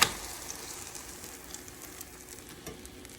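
An omelette sizzles in a frying pan as it is flipped, giving a soft, continuous crackling hiss with a small bump at the start and faint pops throughout.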